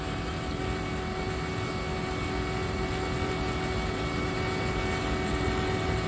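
A vacuum pump evacuating a refrigeration system drones steadily and loudly with a constant mechanical hum and buzzing tones, unchanging throughout and without speech.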